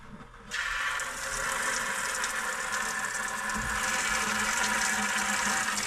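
Water suddenly bursts from a cabin tap turned on for the first time, then hisses and rushes in a steady, close, even stream.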